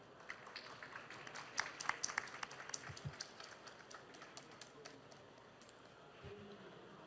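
Scattered applause greets a pitching team at the COMEUP 2023 Ecothon, faint and distant with sparse, uneven claps from a small crowd.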